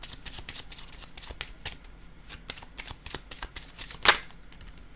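A deck of cards is shuffled for a card reading, giving a rapid, dense riffle of close card flutters followed by one sharper snap as a card is pulled, with no talking.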